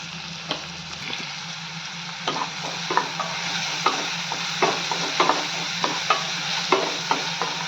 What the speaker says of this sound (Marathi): हिरवी मिरची थोडी परतली की घालूया बारीक चिरलेला कांदा कांदा भाजण्यासाठी त्यात आपण मीठ घालून घेऊयात